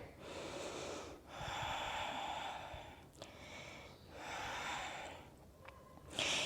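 Deep, audible breathing during a yoga HIIT workout: long airy inhales and exhales in a slow, steady rhythm, about four full breath cycles, close and clear with no talking.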